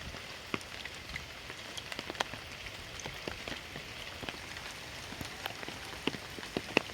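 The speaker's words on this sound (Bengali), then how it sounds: "সকাল থেকে বৃষ্টি হয়েই যাচ্ছে টিপির টিপির টিপির টিপির" Steady rain falls outdoors during the monsoon, a soft constant patter broken by many sharp, scattered drip taps close by, with no talking.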